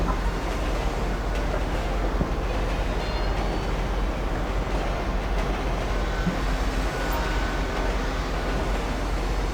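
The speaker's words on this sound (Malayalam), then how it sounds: "നിർത്തല്ലേ ട്രെയിൻ എന്നെ നിർത്തല്ലേ" A train rumbling along in the video game GTA 5, a steady, loud rolling roar with continuous low-frequency rail noise that holds without break, and no talking.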